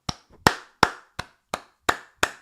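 A person imitates Meghan Markle clapping like a seal, producing seven sharp, evenly spaced claps with quick, slapping hand contact, close and loud with no talking.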